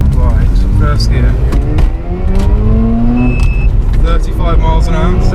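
A Mazda RX8 pulls hard through first gear, its rotary engine note rising steadily in pitch from inside the cabin, with someone talking over the sound.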